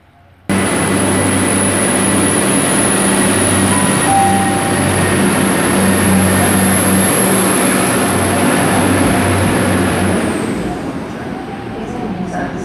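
A Class 175 diesel train departs Shrewsbury station, giving a loud, steady engine rumble with a high-pitched whine that runs for about ten seconds before easing off. The train is close and nobody talks over it.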